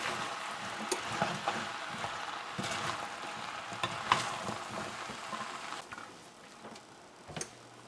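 Squash and chicken are stirred and mixed in a frying pan, with steady sizzling and frying underneath and occasional scraping and clinking of the utensil against the pan.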